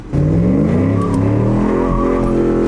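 A V8 sport truck with a five-speed revs hard through an aggressive corner, the loud engine note climbing in pitch and holding close and strong with no voices.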